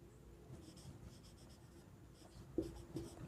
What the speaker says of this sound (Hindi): हम लोग इसी चीज को लिखेंगे।